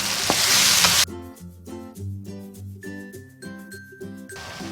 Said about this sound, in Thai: น้ำตาลแล้วก็น้ำเปล่านะคะนี้ก็ผัดเข้ากันนะคะ